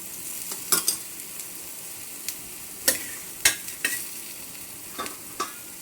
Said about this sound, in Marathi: आता परत परतून घ्यायचं तेल सगळीकडे सोडून घ्यायचं